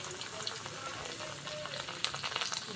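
Sliced potatoes for chips frying in oil, a faint, steady crackling sizzle with small pops and light stirring, quiet and close.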